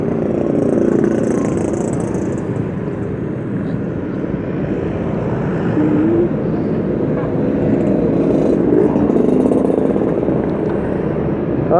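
A Honda Beat scooter ridden through traffic, filtering between vehicles, with a loud continuous engine drone mixed with wind and surrounding traffic noise, steady throughout and close up.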